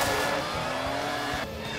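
A cartoon race car speeds along at full throttle, a loud continuous engine roar with a rising whine and a slight drop near the end, no voices over it.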